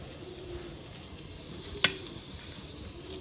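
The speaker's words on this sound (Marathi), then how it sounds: "ही मॅरिनेट केलेली तुकडी आहे ना, ती याच्यामध्ये आपण फ्राय करून घेऊ" Marinated rava-coated fish pieces sizzle steadily in a frying pan, a soft continuous crackle with a few small pops and one sharper spit, quiet and close, no talking.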